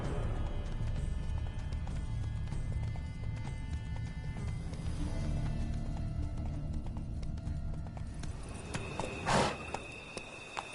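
Spooked horses in The Witcher 3: Blood and Wine clatter along with steady clip-clopping hooves and a rumbling, jostling wagon, ending in a sharp crash-like burst near the end.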